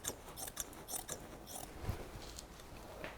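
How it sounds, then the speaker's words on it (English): Soft, quiet snipping and rustling of scissors cutting upholstery material, several small crisp cuts spread over a few seconds. "So all I'm going to do now is overcut it slightly along here just with scissors."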